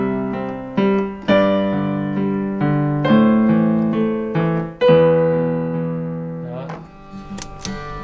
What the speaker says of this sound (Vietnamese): Và mình đánh piano.